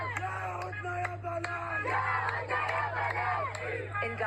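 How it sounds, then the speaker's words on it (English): Big crowds, children among them, cheer and chant together in Gaza streets after a ceasefire announcement, a loud rhythmic wave of massed voices with repeated shouted syllables and whoops carrying on throughout. "In Gaza, cheers you see from those big crowds, including children on the streets there"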